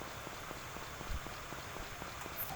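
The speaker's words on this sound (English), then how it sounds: "It's raining today." Steady soft rainfall patters in the Story of Seasons: Friends of Mineral Town farming game, a quiet continuous hiss with light drop ticks throughout.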